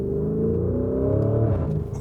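A Lamborghini Urus with a turbocharged V8 in Corsa mode revs up briefly, a close, rising engine drone with a layered harmonic tone that is fairly muted rather than loud, heard alone.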